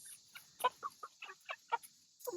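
A rooster clucks repeatedly in short, sharp calls, close by, over a steady high-pitched hiss in the background.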